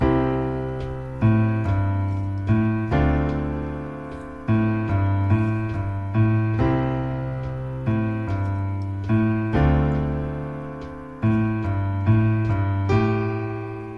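Solo piano plays a bright, steady four-measure intro in C, repeated chords over a bass line, with clear rhythmic attacks and sustained notes.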